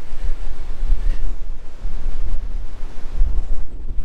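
Strong wind blows outdoors at a spot inland from the ocean, a loud continuous roaring buffet with heavy low rumbling gusts hitting the microphone, no voices present.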